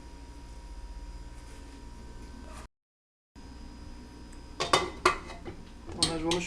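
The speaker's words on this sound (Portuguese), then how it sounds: "Então nós vamos cobrir, fechar aqui a panela." A cooking pot gets covered with its lid while empanadas are made, a hush of background noise broken by a short gap, then a few sharp metallic clanks and clinks of lid on pot near the end.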